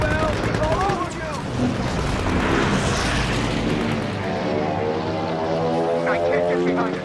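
A WW2 bomber's engines drone and roar in Call of Duty WW2 alongside bursts of machine-gun fire, a loud, steady propeller hum under radio talk.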